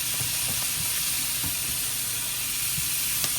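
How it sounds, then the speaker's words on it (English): Brussels sprouts with butter in a hot pan give a loud, steady, close sizzle, with faint stirring and utensil sounds underneath. "we're gonna hit these with a little bit of butter while they're cooking"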